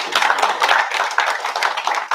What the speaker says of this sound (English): Can you get a round of applause for me?